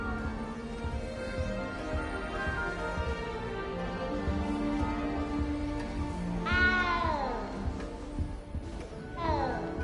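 A frightened cat meows in the Hogwarts Legacy video game, several rising and falling cries over a steady game background, one louder near the end, with some speech-like sound faintly under it.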